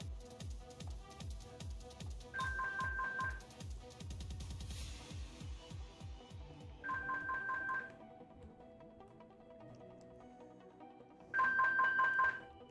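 A telephone rings in three separate bursts of electronic ringing during a gaming session, each burst lasting about a second, with quiet game sounds in between and no talk.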